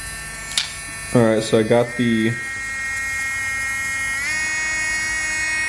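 A Dremel Stylo Plus rotary tool carving outlines: a steady high electric whine that runs continuously after a few short bursts at the start, with someone talking briefly over it.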